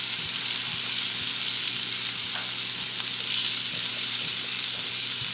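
Pork chops frying in a pan with mushrooms and vegetable broth, giving a loud, dense, unbroken sizzle close up throughout, with no voices.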